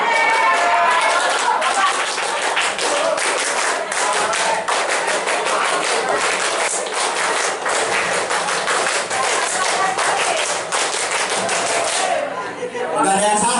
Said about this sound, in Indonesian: Tepuk pramuka 4 kali.